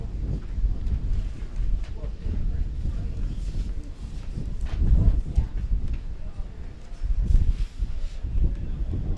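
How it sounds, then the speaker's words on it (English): Low, gusty wind rumble buffeting an outdoor field microphone at a baseball game, swelling and easing throughout without a break. "You may be able to hear in our field mic there that it's a little bit windy today"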